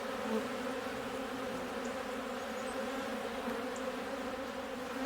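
Honey bees at hives in the Italian woods hum in a dense, steady drone, close and continuous, with no voices.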